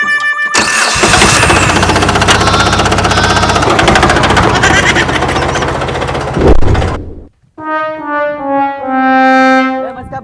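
A tractor engine runs loud and close with a rough, steady mechanical chatter for about seven seconds, then cuts off abruptly, followed by a few wavering tonal vocal-like sounds.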